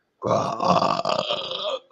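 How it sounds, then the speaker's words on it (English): A single long, loud, rumbling burp after drinking tequila, up close, lasting nearly two seconds. "Got the tequila burps going."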